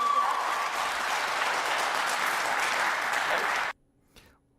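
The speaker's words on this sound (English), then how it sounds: "A lesser clap there than what Rishi Sunak said." A televised leaders' debate audience applauds for Rishi Sunak and Keir Starmer: a dense, sustained crowd clap that cuts off abruptly near the end, followed by a brief spoken phrase.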